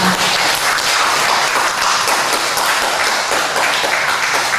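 A church congregation at a Sunday worship service breaks into loud, sustained applause, dense and even from start to finish, with many hands clapping together at close range and no talk over it.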